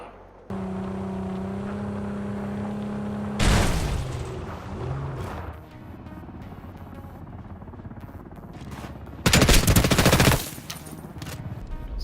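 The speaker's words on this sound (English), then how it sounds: "Good shooting, Tex." Gunfire in the video game From Dusk Till Dawn comes as a droning engine hum broken by two loud, sharp bursts of rapid shots, the second longer and more intense.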